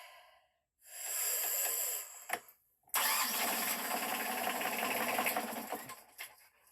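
A freshly painted engine on a starting attempt: a sustained starter whir, a brief pause, then a longer loud mechanical churning and cranking close by, with no speech.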